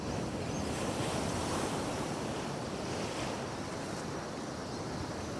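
Salt seawater surging over dark coastal rocks and breaking into white foam, a continuous loud roar of surf with wind buffeting the microphone, no voices.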